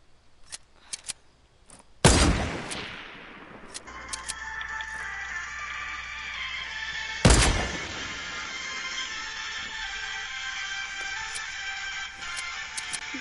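Two sharp gunshots ring out in a wild west video game, several seconds apart, each with a crisp crack and a trailing ring, among faint clicks and a steady hum of game sound.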